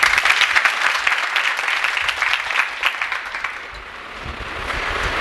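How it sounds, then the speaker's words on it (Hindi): Steady applause from an audience honoring officers at an MPPSC civil services event, a dense, continuous clatter of many hands that stays fairly loud and dips only slightly near the end. "तो उन सभी अधिकारीगणों के लिए एक बार जोरदार तालियां।"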